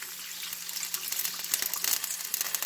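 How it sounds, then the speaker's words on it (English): Beef broth pours into a hot pan over a sauce base for pork chops, a brief splashing gush of liquid mixed with sizzling. "Now to that we're going to add 2 cups of beef broth."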